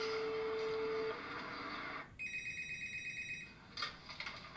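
A telephone rings in a home with short electronic tones, a steady ringing burst that stops and then sounds again briefly, close and fairly quiet with no one talking.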